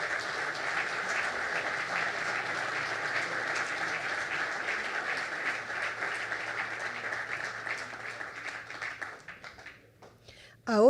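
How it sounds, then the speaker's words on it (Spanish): Audience applause for a government minister at a live business forum on water resilience and infrastructure, a steady wash of clapping that thins out near the end before a sudden louder sound cuts in. "le damos otro aplauso al ministro"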